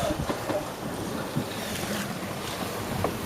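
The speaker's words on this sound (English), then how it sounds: "We are in some rather choppy, rolly conditions." A sailboat under double-reefed main and staysail rolls in choppy seas on the passage from Hawaii to San Francisco, with wind buffeting the microphone, water sloshing, and creaks and knocks around the boat.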